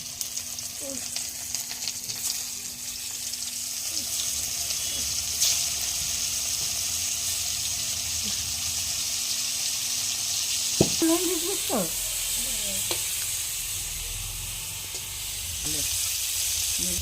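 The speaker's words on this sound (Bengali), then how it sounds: "ফুলকপিটা এবার ভাজছে" Cauliflower pieces fry in hot oil in a pan, giving a continuous bright sizzle throughout. Brief voices and clatter come in partway through.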